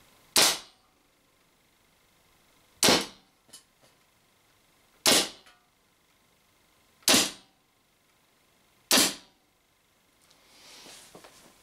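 A Spyder MR6 paintball marker firing Z-RAM slugs outdoors: five loud, sharp pneumatic pops spaced about two seconds apart, each with a quick decay, followed by faint rustling handling noise.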